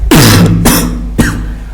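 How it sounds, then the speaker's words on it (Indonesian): A man coughs three times in quick succession, loud and close, each burst short and harsh with a rough throaty tail. "Sorry, saya batuk."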